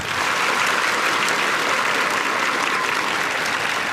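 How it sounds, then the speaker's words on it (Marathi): Students at a live guidance event for pupils clap loudly together, a dense, steady wall of applause with no pauses, close and filling the room. "एकदा जोरदार तुम्ही टाळ्या द्या"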